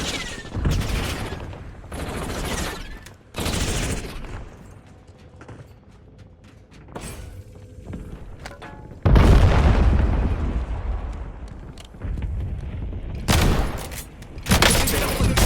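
Warzone battle gunfire and explosions, loud bursts of automatic fire and heavy booms that come in clusters with quieter gaps between, over faint game voice chatter.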